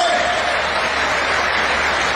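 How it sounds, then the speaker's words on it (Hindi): Crowd applause welcoming Shivraj Singh Chouhan at an outdoor rally in Nasrullaganj, Sehore, a dense, steady wash of many hands clapping at once, loud and unbroken throughout. "तो एक बार जरा जोरदार तालियां बजा के मेरा स्वागत तो करो"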